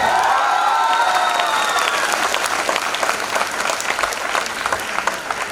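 Loud, sustained applause from a large training-seminar audience in Patna fills the room, dense clapping with a few cheers and shouts rising over it, steady throughout and gradually thinning slightly toward the end.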